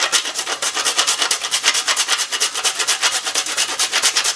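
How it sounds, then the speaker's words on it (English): Nutmeg being freshly grated over a malfatti mixture with breadcrumbs, a steady rhythmic rasping of quick scrapes, close and clear, with no talking. "I'm going to freshly grate just a little bit of nutmeg onto the top."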